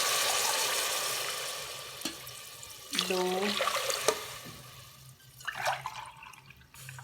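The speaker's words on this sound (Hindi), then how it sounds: "बुनाई करने के बाद पानी ऐड कर देंगे।" Water pours into a cooking pot of fried potatoes and peas for rice pulao, giving a rushing, splashing stream after a steady hiss at the start, with brief speech between pours.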